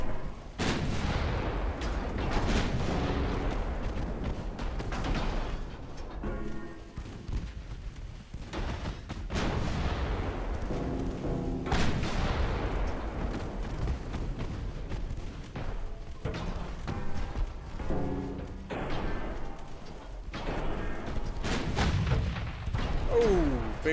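Naval artillery gunfire in the warship game Ultimate Admiral Dreadnoughts: a steady stream of heavy booms and sharp gun blasts, overlapping and continuous throughout, loud and close with rolling low rumble.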